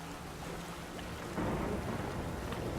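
A rolling thunderstorm in The Witcher 3: soft rain hiss gives way to a deep, swelling thunder rumble halfway through, heavy and sustained, with no voices.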